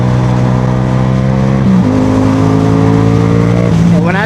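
A Yamaha MT-07 motorcycle fitted with an R6 throttle tube runs hard and close, its engine droning loudly and steadily, with pitch jumps as it shifts through gears and a rising rev near the end, with wind noise underneath.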